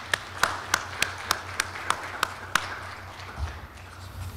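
A few people clap at a university ceremony, a sparse run of about nine distinct, evenly spaced claps at close range that then fade out.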